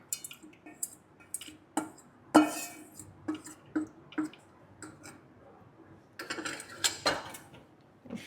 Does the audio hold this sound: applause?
no